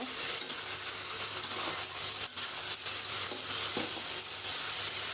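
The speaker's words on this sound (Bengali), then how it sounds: "এই যে আমি বেগুন টমেটো দিয়ে দিয়েছি। তো এইগুলো একটু কষিয়ে তারপরে মাছগুলো দিব।" Eggplant and tomato sizzle steadily as they are sautéed in a hot pan, a continuous loud frying hiss with occasional soft stirring scrapes and no voices.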